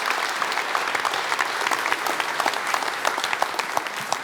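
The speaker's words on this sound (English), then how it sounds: "We can clap now." Graduation ceremony crowd applause at a TAFE institute, a broad sustained wash of many hands clapping with sharper individual claps popping out near the end.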